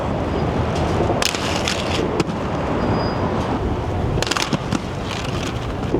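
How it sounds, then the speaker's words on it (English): Strong wind buffeting an outdoor skate spot, a steady roaring rush with louder gusts, close and heavy on the microphone, with no voices. "The wind is getting rough."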